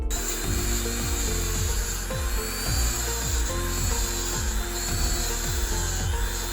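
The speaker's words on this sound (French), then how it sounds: "J'ai donc repris ma Dremel et l'outil brosse pour enlever les résidus." A Dremel rotary tool with a brush attachment scrubs leftover residue off a magma-style tray, producing a loud, continuous high-pitched whine with a steady abrasive rubbing and repeated dips in pitch as pressure changes, close up and without talk.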